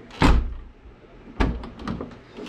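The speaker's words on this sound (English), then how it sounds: "that door, you have to pull hard to open it" A car door on a BMW E46 being pulled open, with two sharp latch clunks about a second apart followed by softer rattles and knocks, close up and without talk.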